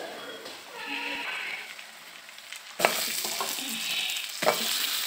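Cumin seeds and turmeric frying in oil while being stirred, a steady crackling sizzle that jumps louder near the end with a few sharp scraping clatters.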